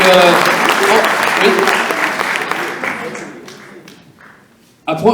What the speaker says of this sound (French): Vous pouvez les applaudir, Michel Dutot et Julien Vollet